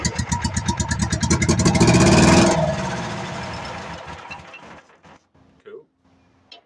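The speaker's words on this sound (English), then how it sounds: "we're going to shoot some starting fluid down its throat and see if it pops" The engine of a Case Davis 20+4 trencher cranks on starting fluid with a loud rhythmic chugging that builds to a roar, then cuts out, leaving faint clanks and a brief hum.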